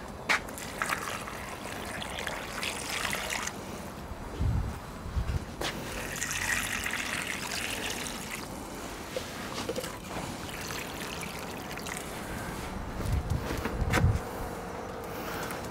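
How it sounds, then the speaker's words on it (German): Water is poured into a full pot of rustic mixed-meat stew. A soft, uneven trickle and splash go on throughout, with a few louder knocks. "Jetzt müssen wir noch mit Wasser auffüllen."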